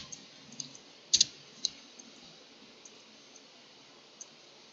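A computer mouse clicks a link: a quick double click near the start, then a few lighter isolated ticks spaced apart over a faint background hiss.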